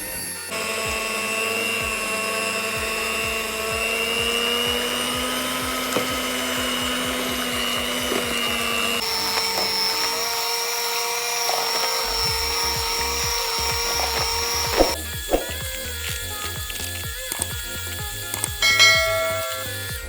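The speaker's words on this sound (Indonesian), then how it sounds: "Lalu kita mixer lagi hingga semua tercampur rata." A hand mixer whirring steadily through kue pukis batter with flour and coconut milk, its motor hum shifting pitch as the speed changes, with beaters clattering against the bowl close by.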